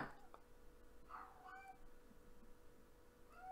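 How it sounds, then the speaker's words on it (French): A pet cat meows nearby indoors, a few faint short meows spread across a quiet background with low room hum. "j'ai mon chat qui miaule à côté"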